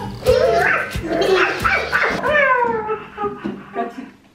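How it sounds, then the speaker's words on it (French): A small toy dog yaps repeatedly in short, sharp, squeaky barks, fairly close, with a few faint voices underneath. "il passe en mode aboiement"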